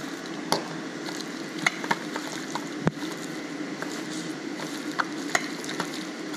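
Eggs are stirred together in a pan for a chicken cauliflower stir fry, giving a continuous soft scraping and sizzling hiss broken by scattered light clicks of the utensil against the pan.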